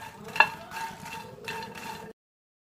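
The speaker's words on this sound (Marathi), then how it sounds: "मखाना थोडंसं भाजून घ्यायचं, क्रिस्पी होईपर्यंत छान भाजून घ्या." Makhana (fox nuts) dry roasted and stirred in a pan until crisp, heard as close rattling, scraping and shuffling as the light puffs get pushed around, with a sharper clack near the start before the sound cuts off.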